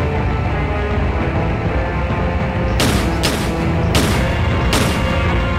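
Video game gunfire aimed at a giant baby, heard as a few loud, sharp booming shots spaced about a second apart over a dense, constant roar of noise.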